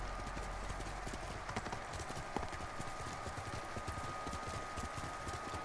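A horse's hooves clip-clop in a steady galloping rhythm in the video game Ghost of Tsushima, with constant rumbling game ambience underneath, heard at low level.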